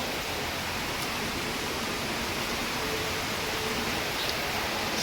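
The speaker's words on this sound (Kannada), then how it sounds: "ಹಾಗೆಯೇ ಜೋರು ಮಳೆ ಕೂಡ ಬರ್ತಾ ಉಂಟು ನೋಡಿ." Heavy evening rain pours down as a dense, even hiss that holds steady and fairly loud throughout, with no voices.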